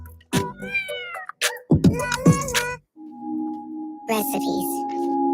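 A cat meows several times in loud, drawn-out cries, close by, with a steady low tone and brief pauses between calls.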